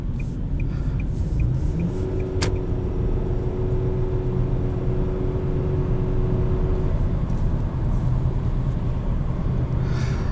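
A 2020 Nissan Sentra SR driving, heard from inside as a steady low road and engine rumble with a faint whir, continuous and fairly loud with no talk.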